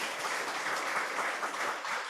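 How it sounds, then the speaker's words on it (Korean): A church congregation in Gwangju, South Korea claps together in steady, moderately loud applause, a dense wash of hand claps with no one speaking over it. "우리 박수로 안녕하겠습니다"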